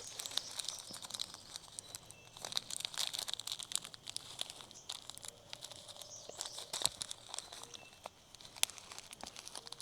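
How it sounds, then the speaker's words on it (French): Passion fruit seed packets are crinkled and torn open, making close, scratchy crackles with sharp rips scattered across a steady handling noise, with no talking. "Vous allez déchirer votre semence."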